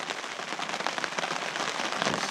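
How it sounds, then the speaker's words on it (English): A rain shower pours steadily on a campsite in northern Minnesota, a dense, close hiss of drops spattering on surfaces with no voices. "Got a little rain shower coming through."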